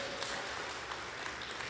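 Congregation applauding in a church service, steady moderately faint clapping filling the room without pause.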